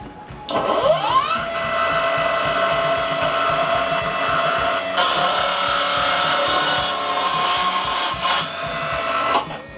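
A ProCraft PGS 20 cordless miter saw, blade tilted to 45 degrees, whines up and cuts through a workpiece, a loud steady motor drone with the pitch shifting midway before spinning down near the end.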